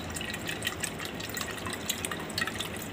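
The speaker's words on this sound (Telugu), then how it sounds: "ముందుగా కొబ్బరికాయకి ఇలా హోల్ వేసుకొని ఇందులో నుంచి వాటర్ తీసుకోవాలి." Water draining out of a holed tender coconut, a steady soft trickle and drip of liquid, close and fairly quiet throughout.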